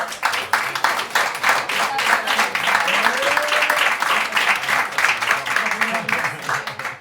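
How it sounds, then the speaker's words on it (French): Audience applause at a French stand-up comedy show, dense, steady clapping from a crowd filling the whole stretch, with voices and cheers mixed in underneath. "on peut applaudir la besace déjà."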